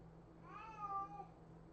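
A house cat gives a single clear meow, rising and falling, heard indoors over a low steady hum with no one speaking.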